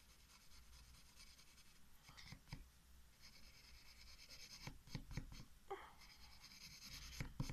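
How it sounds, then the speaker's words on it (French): Colored pencil shading a sky on paper, a faint, close scratchy rubbing with repeated short strokes in an uneven rhythm, quiet throughout with no talking. "Donc je commence à colorier."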